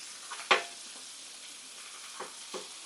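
Onions spread out on a flat griddle for a light sauté, giving a steady faint sizzle with a sharp spatter pop early on and two softer pops later.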